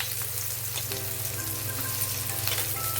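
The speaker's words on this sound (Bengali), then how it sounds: "তো প্রথমেই দিয়ে দেবো কুচনো পেঁয়াজ" Chopped onion frying in oil in a kadai gives a steady, close sizzle that runs the whole time, with faint clinks of a utensil and no talking.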